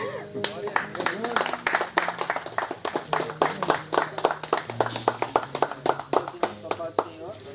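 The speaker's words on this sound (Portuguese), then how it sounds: "E as palmas a você, Jesus." Congregation clapping in a church service, sharp rhythmic hand claps in a steady beat, close and prominent, with voices and sustained tones running beneath.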